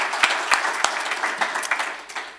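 Scattered applause from a small audience at an economic outlook event, sparse claps rising and fading over a couple of seconds, moderately near and fairly quiet.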